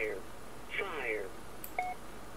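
Fire warning test tone from an aircraft in the X-Plane 11 flight simulator, an Aerobask Phenom 300 cockpit: a brief synthetic alert with a short steady beep near the end, heard over a faint background hum and a voice.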